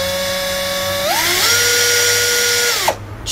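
A cordless two-speed screwdriver from AliExpress runs steadily with a whining motor hum that rises in pitch as it speeds up, holds level, then spins down and stops.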